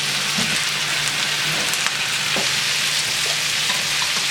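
Pork and a medium tomato sauté in a hot pan with a steady, dense sizzle and occasional soft stirring clicks, close and continuous, with no voices.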